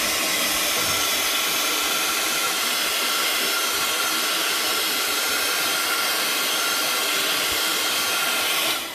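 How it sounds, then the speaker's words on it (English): A heat tool blows steadily and loudly over wet paint on a splatter background, a continuous airy roar with a high hiss that holds for the whole stretch and cuts off at the end. "I'm going to heat it just to dry it slightly."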